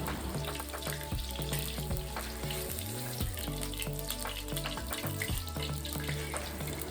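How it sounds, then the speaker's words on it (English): Homemade tofu frying in hot oil in a pan gives a steady crackling sizzle, fairly soft and continuous, with occasional low bubbling shifts and no voices. "Continue frying the rest of the tofu."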